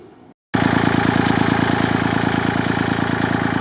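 A Kubota L2501 diesel tractor engine catches after a brief silence and settles into a loud, steady, rapid chugging idle, close by and running evenly with no talk.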